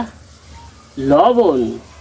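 Spice paste in a hot kadai bursts into a loud sizzle as water is added, the hiss swelling suddenly after a quiet moment, with a voice speaking over it.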